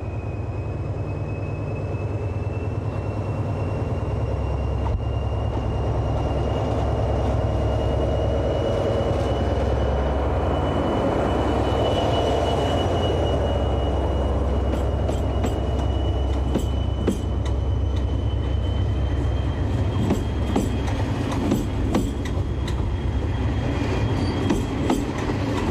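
A train rumbles steadily past at close range through Langres station, wheels clattering and a faint high squeal running throughout, with sharper clicks toward the end.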